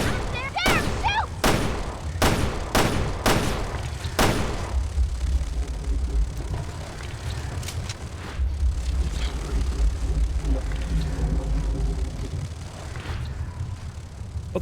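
Rapid gunfire in Resident Evil Revelations 2, about half a dozen sharp, loud shots fired one after another at the start. A steady low rumbling game ambience continues underneath, with occasional faint impacts afterward.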